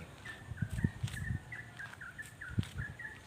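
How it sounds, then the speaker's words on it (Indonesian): Birds chirp outdoors on a bright morning walk, giving a run of short, repeated high calls at a steady pace, mixed with soft low thumps nearby. "Suara burung berkicau-kicau."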